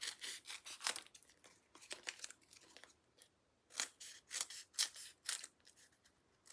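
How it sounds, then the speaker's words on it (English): Scissors snip through craft foam pads in quick clustered bursts, close and crisp, pausing briefly midway before another run of rapid cuts. "we're going to take a lot of foam pads, okay, and we're going to cut them into 3"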